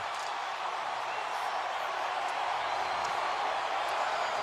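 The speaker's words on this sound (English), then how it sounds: "We'll let you listen to the crowd." Hockey arena crowd roaring after a Boston Bruins empty-net goal by Marchand at the Winter Classic against the Chicago Blackhawks, a sustained dense wall of cheering and applause at steady loudness throughout.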